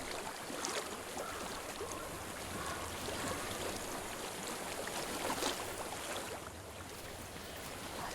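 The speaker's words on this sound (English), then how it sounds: "I hear water. Go to it." Flowing water in the Hellblade game world runs as a broad, steady rushing wash, like a stream or river close by. It stays constant and unbroken throughout, with no voices.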